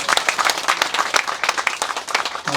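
A crowd at an outdoor farm field demonstration on Shine Muscat grape growing claps together, a lively, close burst of applause that runs throughout, with a voice starting at the very end.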